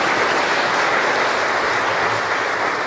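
Dense applause from an outdoor crowd at a Bom Jesus do Ribeirão Grande event in 2017, a steady wash of clapping with no talk over it.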